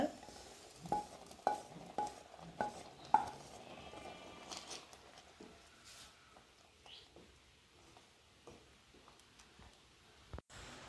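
Payasam with avaram flowers being stirred in a pot, heard as a run of distinct spoon knocks and clinks against the metal, loud at first and then softer and sparser, with faint background sounds.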